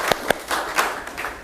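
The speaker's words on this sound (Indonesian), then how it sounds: "Tepuk tangan dulu." A few scattered hand claps from a small group at a scout council gathering in Kupang, brief and uneven, fading out after a moment.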